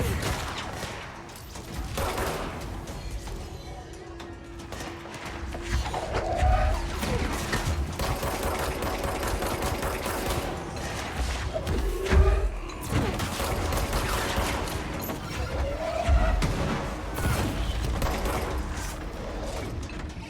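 Enemy gunfire in the video game Control, a sustained stream of scattered shots and mechanical clatter over a dense in-game soundscape, with occasional heavier thumps and crashes.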